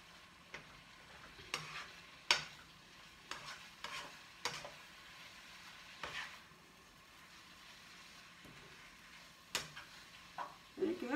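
Japchae is stir-fried in a pan with a quiet sizzle, while a utensil knocks and scrapes against the pan in irregular bursts.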